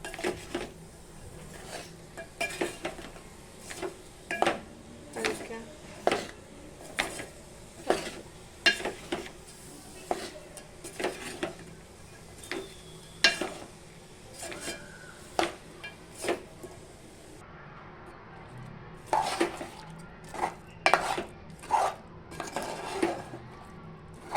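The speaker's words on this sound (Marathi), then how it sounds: "बारीक गॅसवरती परतून घ्यायचं आहे तोपर्यंत ते मेल्ट नाही होत." Metal utensil scraping and clinking against a pan while jaggery is stirred over low heat for puran poli, a steady series of sharp knocks roughly every second, close and fairly loud, with no talking.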